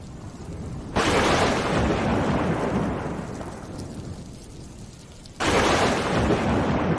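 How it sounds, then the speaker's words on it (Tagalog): An approaching storm in an animated scene brings rain as a loud, dense wash that starts abruptly, fades, then bursts back strongly, with no voices. "Ayos, umuulan."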